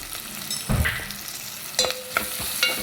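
Masala for prawn curry is stirred and fried in a pan, giving soft scraping strokes of a spoon with a low sizzle beneath, a few distinct stirring scrapes spaced across the moment.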